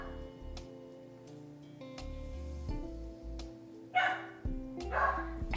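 A pet dog indoors barks at people outside, giving a few close, sharp barks near the end over faint background music.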